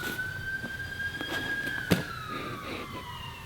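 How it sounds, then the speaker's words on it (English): An ambulance siren wails in the distance with a slowly rising and falling tone, heard over low background noise and a brief sharp knock. "Ambulance."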